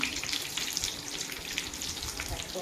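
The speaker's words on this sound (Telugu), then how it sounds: "వేస్తున్నానండి ఆయిల్లోకి" Pieces of ridge gourd hit hot oil for a sesame-chili gourd fry, producing a steady, moderately quiet sizzle and crackle up close, continuous with no speech.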